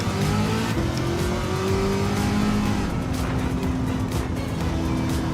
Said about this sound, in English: The supercharger.